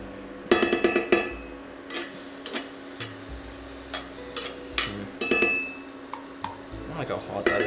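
Butter melting in a hot pan for grilled cheese gives a soft sizzle under loud clattering stirs and knocks, with sharp bursts near the start and again midway.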